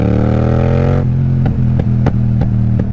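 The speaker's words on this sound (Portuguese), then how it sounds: "vamos dar uma voltinha aqui, nós os três, com estas duas motas" Two motorcycles set off on a ride through the Serra do Caramulo hills. A steady, close engine drone shifts in pitch after about a second, and sharp mechanical clicks break in at regular intervals.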